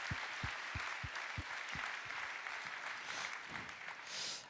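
Applause at a French awards ceremony, opening with several distinct loud claps in a steady rhythm before settling into a broad, continuous crowd clapping.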